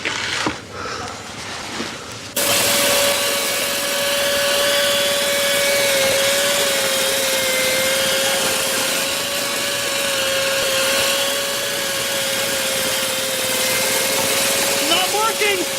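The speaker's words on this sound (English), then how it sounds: "They're drilling again." A drill starts up abruptly after a quiet stretch and keeps running as a loud, steady high whine with a sustained pitched tone that holds for over ten seconds, with voices faintly present.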